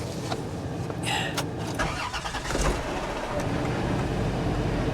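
An old car with 250,000 miles turns over and fires up, a brief cranking followed by a rough engine note settling into a steady, close idle.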